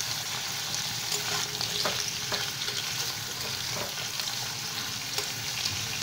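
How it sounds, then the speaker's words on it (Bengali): Drumsticks (moringa pods) fry in hot oil over medium heat, a steady dense sizzle with faint crackles and occasional stirring clicks running throughout, close and continuous with no voices. "তেলের মধ্যে সজনে ডাঁটাগুলো দিয়ে আমি একটু হালকা লাল লাল করে ভেজে নেব"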